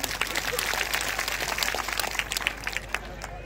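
An audience at a Dhamma conference gathering applauds the organising team, a dense burst of clapping that stays loud for a few seconds and then thins near the end.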